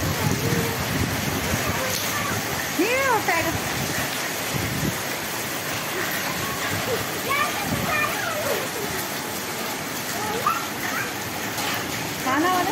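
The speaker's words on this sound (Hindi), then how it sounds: "ओले वाली बारिश" Hail and rain pour down in a steady, hissing patter with scattered harder taps, while people talk and exclaim over the storm.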